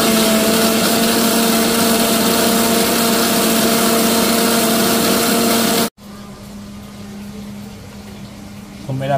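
A mixer grinder pureeing onions into paste, a loud steady whirring motor hum that stops abruptly, followed by a quieter background hum.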